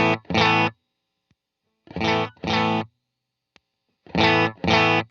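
An electric guitar through a short reverb pedal plays three pairs of bright, distorted chord stabs, each pair separated by silence, the notes cut off sharply with only a faint sparkle of tail.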